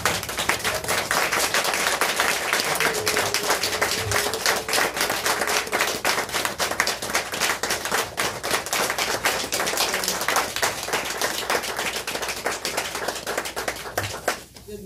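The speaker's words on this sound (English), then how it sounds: "Please stand to your feet and let's give a rousing round of applause" A church audience gives a standing round of applause to welcome a guest speaker, steady dense clapping that fills the whole stretch at even loudness with no talk over it.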